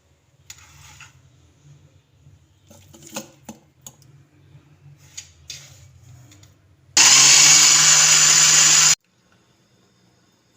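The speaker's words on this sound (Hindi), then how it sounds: "अब हमने इसको चॉप कर लेना है चॉपर में डाल के।" An electric food chopper whirs loudly and steadily for about two seconds as it chops eggs, then stops abruptly. Before it starts, there are faint kitchen clinks and handling noises.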